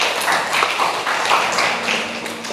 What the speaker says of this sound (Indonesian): silakan beri tepuk tangan untuk kelompok 3.